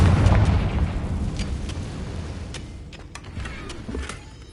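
Confringo fire spell blast in Hogwarts Legacy: a loud low boom opens the clip, then rumbles and slowly fades, with a few crackling pops and small bursts following.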